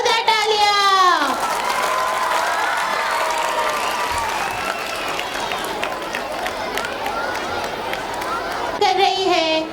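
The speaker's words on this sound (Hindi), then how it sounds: "ऑडियन्स, जोरदार तालियां." School annual function audience clapping loudly and steadily, with a voice speaking at the start and end and some cheering and chatter mixed into the applause.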